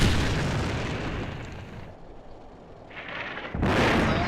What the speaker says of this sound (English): your artillery once again